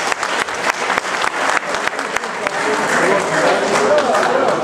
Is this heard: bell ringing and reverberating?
no